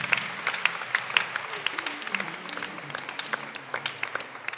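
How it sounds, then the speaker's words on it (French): Congregation clapping at a French-language church service, a dense run of individual hand claps at moderate distance, steady throughout with faint voices mixed in beneath. "est-ce qu'on peut acclamer pour la gloire de Dieu?"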